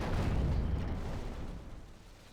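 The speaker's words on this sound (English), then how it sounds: "Ready the catapult. And fire." A catapult in a Lord of the Rings strategy game fires and strikes with a heavy, rumbling explosive impact that rolls loud at first and fades over a couple of seconds.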